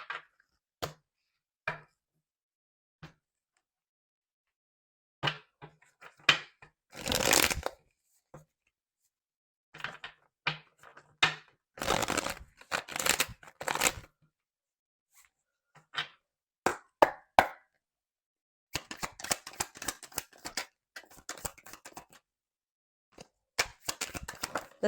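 A deck of tarot cards is shuffled up close and quietly, in short bursts of riffling, flicking and tapping separated by moments of silence, with a longer, busier flurry near the end.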